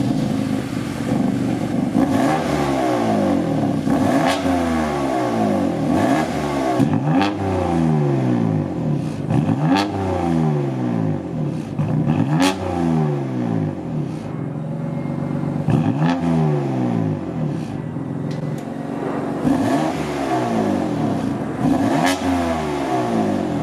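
A BMW F8X M3/M4 engine with stock catalytic converter, stock mid pipes and stock axle-back exhaust revs repeatedly, about a dozen rising-and-falling blips in steady rhythm, loud and close with no talking.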